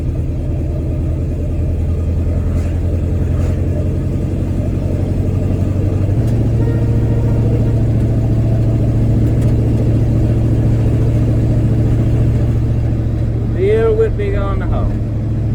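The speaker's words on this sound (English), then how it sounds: "I'm off the throttle right now and I'm very lugging." An engine drones low and heavy while lugging in fourth gear at about 25 mph off the throttle, a steady rumble filling the cab as someone talks briefly near the end.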